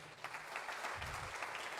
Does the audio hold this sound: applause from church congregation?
yes